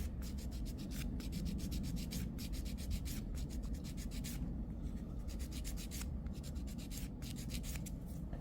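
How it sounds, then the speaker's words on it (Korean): A nail file rubbing steadily across an extended nail's surface along the cuticle line, a close, continuous gritty scraping with quick back-and-forth strokes, fairly quiet and without talk. "이 부분 큐티클 라인 갈아주면서 조금 더 갈게요"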